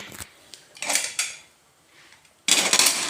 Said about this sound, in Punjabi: ਹੁਣ ਮੈਂ ਸਾਰੇ ਭਾਂਡੇ ਮਾਂਜਨੇ ਪੈਣੇ ਮੈਨੂੰ